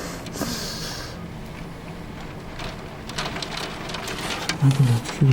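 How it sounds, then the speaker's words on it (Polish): Graupel, snow pellets and ice patter down during a snowstorm with thunder, a dense steady hiss of small impacts that grows louder and more clattering toward the end. "Lód. Krupa śnieżna."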